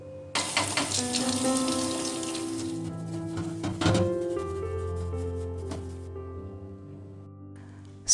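Water runs and splashes as an Elba kitchen chimney's greasy filter is rinsed and wiped with a sponge, a steady close-up flow with a few clatters and sharper knocks, no talk.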